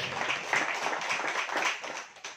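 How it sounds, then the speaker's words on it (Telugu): A congregation at a Telugu gospel ministry service claps hands loudly in a steady, crowded patter of many hands, filling the room without pauses. "గట్టిగా చప్పట్లు కొడతాం."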